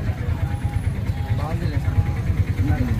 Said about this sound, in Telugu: ఆటోలో వెళ్ళిపోతున్నాము.